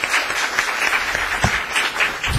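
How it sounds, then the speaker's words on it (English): Audience applause at the close of a lecture in a securities institute lecture series: steady, dense clapping from a sizable crowd, fairly loud and continuous throughout. "Let's give him a round of applause to Adam Samuel."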